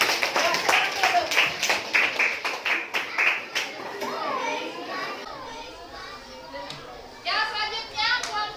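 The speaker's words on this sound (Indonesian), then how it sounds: "Berikan tepuk tangan dulu untuk kelompok 4" Students in a classroom clap and cheer for a group that has just presented, with bursts of clapping mixed with children's voices and chatter throughout.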